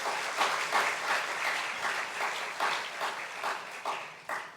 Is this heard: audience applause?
yes